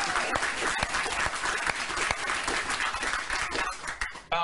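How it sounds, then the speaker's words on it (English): A television studio audience applauds on a talk show, a dense burst of clapping that holds steady, then cuts off sharply at the end. "You can applaud."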